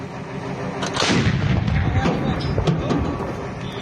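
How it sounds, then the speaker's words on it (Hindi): Syrian army artillery fires during the war in Syria, a heavy booming blast followed by rolling echoes and rumble, loud and close, with voices faintly underneath. "सीरियाई सेना जो आखिर कैसे तोप का इस्तेमाल कर रही है, बड़े हथियारों का इस्तेमाल हो रहा है"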